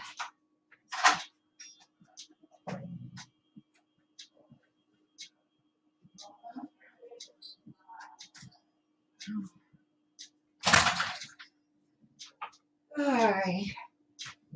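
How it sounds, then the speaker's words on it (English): Several sharp knocks ring out at separate moments amid quiet room noise, with brief bits of nearby movement and a short higher-pitched sound near the end. "somebody's knocking on my door"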